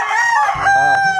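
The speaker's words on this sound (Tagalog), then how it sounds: "Yan yung may ingay na manok." A rooster crowing nearby, one loud drawn-out call with a rising then held tone, heard alone.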